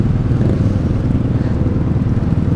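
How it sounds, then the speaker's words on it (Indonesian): 1984 Honda Magna 750cc V-twin cruiser motorcycle riding along, a loud continuous low engine rumble mixed with heavy wind rush, close up and without pauses. "Ini motor tipe cruiser. Itu V-twin."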